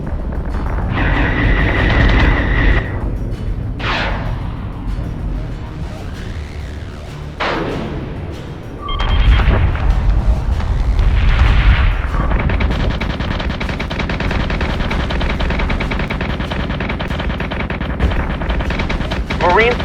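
Space battle weapons fire in Battlestar Galactica Deadlock, loud bursts of rapid automatic cannon fire and heavy booms, with rumbling explosions, sweeping whooshes and a voice speaking over the combat.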